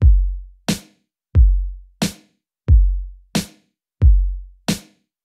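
Basic drum beat programmed in Logic Pro, with a deep, booming kick alternating with a sharp snare on beats two and four, four bars of a steady, even groove, clean and close, with no talking.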